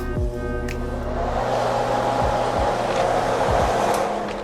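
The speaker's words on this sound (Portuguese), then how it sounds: "Eles possuem uma ventoinha lá no fundo," An electric convection oven's rear fan whirs steadily in a bakery kitchen, a close, continuous airy hum with a faint tonal whine that holds unchanged throughout.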